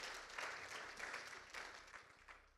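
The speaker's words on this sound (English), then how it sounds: "One more round of applause," Audience applause at an international plant phenotyping symposium session, a steady wash of clapping from a seated crowd that holds fairly even for the whole stretch, with no talking over it.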